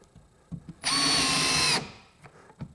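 A Makita 40V max XGT brushless 1/2-inch hammer drill-driver drives a larger screw, whirring loud and steady for about a second, with soft handling clicks before and after.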